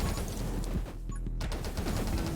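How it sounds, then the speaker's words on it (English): Constant rapid gunfire in the top-down survival shooter game 20 Minutes Till Dawn, a loud continuous rattle of shots with a brief dip midway before resuming under busy game sounds. "Now I'm shooting quite far."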